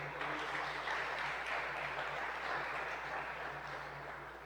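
A church congregation at a family worship service claps in praise to the Lord: a steady wash of many hands applauding together, fairly even in level over a low background hum, easing slightly at the close.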